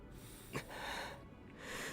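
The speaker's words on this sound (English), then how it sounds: "we get Aether breathing" Aether, the Genshin Impact protagonist, breathes in a short sharp gasp or snort near the start, followed by a steady breathy exhale under soft ambient tone, close and quiet.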